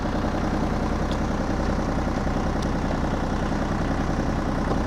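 An ISEKI TA235 tractor engine running in its lowest gear, a steady close chugging drone with an even low rhythm throughout.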